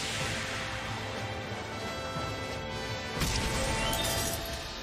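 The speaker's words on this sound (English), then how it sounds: "Oh, wow, it cracked the clock." A clock cracking as a sound effect in the Hunter x Hunter anime, a loud sustained crash with a sharp shattering burst near the end over dense noisy texture.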